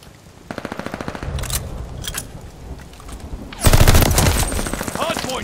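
Video-game gunfire at a hardpoint: rapid machine-gun bursts in steady rhythmic volleys, joined midway by a louder, denser barrage of overlapping shots and booms, all close and loud.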